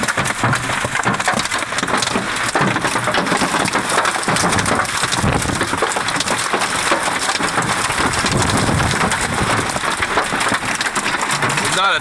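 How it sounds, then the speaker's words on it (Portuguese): Heavy hail pounds a car in an Oklahoma storm, a dense continuous clatter of ice striking metal and glass, loud and close without pause, with speech faintly mixed in. "enquanto um granizo forte destruía seu carro"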